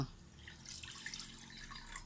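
Water is poured and trickles steadily at close range in a kitchen while sticky rice is prepared for steaming, a soft continuous splashing with faint drips.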